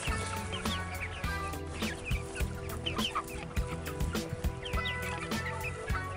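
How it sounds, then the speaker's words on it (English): Young chicks cluck and chirp inside a mobile chicken coop wagon, with overlapping calls and brief peeps sounding continuously and close by. "We've got chicks living inside of our coop."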